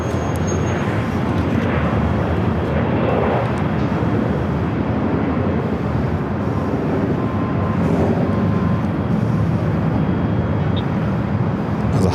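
A British Airways Boeing 777-300ER arriving at Los Angeles airport, a loud, steady broadband jet roar that holds constant throughout.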